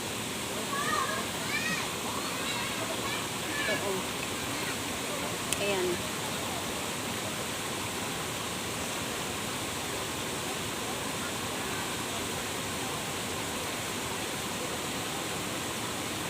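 Hot spring water flowing from tree roots near a volcano, a steady broadband rush of running water filling the scene throughout, with brief voices speaking near the start.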